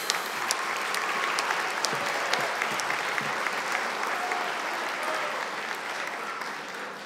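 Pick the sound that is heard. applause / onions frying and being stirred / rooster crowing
applause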